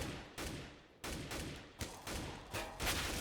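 Rapid AK rifle bursts in a Counter-Strike match on Dust 2, sharp broadband shots in repeated volleys roughly every half second, loud and close, with no talk over them.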